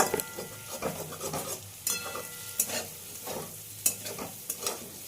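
Paneer frying in a pan with oil sizzling underneath and a spatula scraping and stirring in several distinct bursts, close and moderately loud, with no talking.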